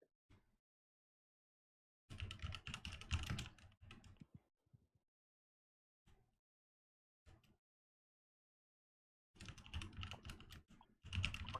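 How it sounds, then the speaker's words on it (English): Typing on a computer keyboard comes in bursts of rapid clacking keystrokes separated by silent pauses, with a few isolated single taps, close and fairly faint. "still typing something out"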